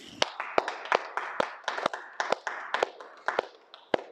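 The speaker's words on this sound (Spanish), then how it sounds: "Vamos a hacer ese aplauso otra vez" Scattered, uneven clapping from a small lecture audience after an economics class, with a dozen or so separate sharp claps spread irregularly over four seconds rather than a full, dense round of applause.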